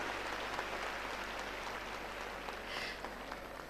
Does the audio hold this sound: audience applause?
yes